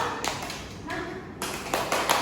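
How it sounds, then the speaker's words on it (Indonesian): A classroom group claps out a 'tepuk jempol' chant, several irregular bursts of hand claps separated by brief gaps, with voices talking faintly in the background. "kita kasih tepuk jempol untuk teman-teman yang di depan"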